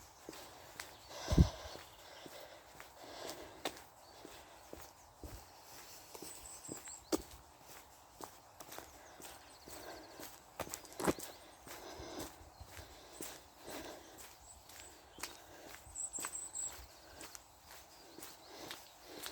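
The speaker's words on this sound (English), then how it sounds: "See all the horses in the corner there." Faint, irregular clopping of horse hooves walking on hard ground, distant and scattered over quiet background noise.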